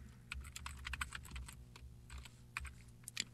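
Computer keyboard typing code for a Flash ActionScript 3.0 shooter game: quick, irregular clusters of close key clicks over a faint low hum, with no speech.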